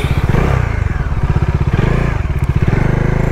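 A Bajaj NS200 BS3 motorcycle engine runs close and loud with a steady, rapid idle thrum and a slight rise in revs, with no voices.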